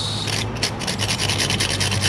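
A small brush scrubs scale off a motorcycle carburetor in rapid, steady back-and-forth strokes, loud and close with a rasping, scratchy texture.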